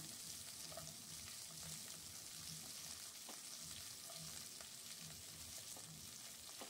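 Steady, soft sizzling of chopped vegetables, including carrot, frying in a pan, a constant hiss with faint occasional clinks, no voices.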